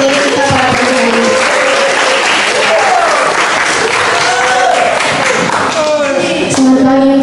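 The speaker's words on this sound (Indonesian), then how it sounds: "Mari kita berikan tepuk tangan sekali lagi untuk pemateri kita pada pagi hari ini." A school audience in a classroom presentation setting claps loudly and continuously in sustained applause, with a voice speaking over the clapping.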